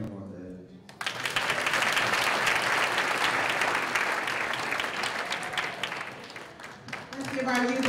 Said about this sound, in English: Let's give our youth another round of applause.